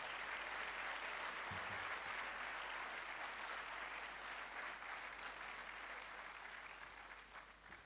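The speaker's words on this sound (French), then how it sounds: "Sous vos applaudissements, s'il vous plaît." Sustained applause from a large audience at a political presentation in Senegal, steady and continuous, slowly fading toward the end.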